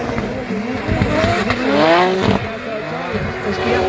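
Drift cars at a Drift Masters round in Ireland slide tandem through a corner, with loud tire squeal and a roaring engine over a sweeping, rising-and-falling tone, under continuous commentary.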